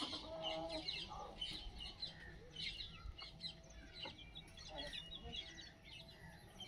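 Desi chickens and small chicks in a low-cost poultry shed, with steady clucking and high chirps from many birds close by, continuous throughout amid general barnyard noise.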